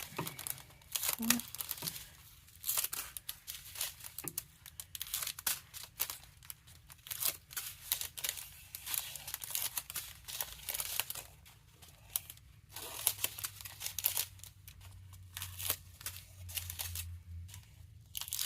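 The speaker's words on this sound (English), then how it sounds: "let's cut all these apart" Plastic diamond painting drill bags are cut apart with scissors, giving repeated crinkling, rustling snips up close while a person talks throughout.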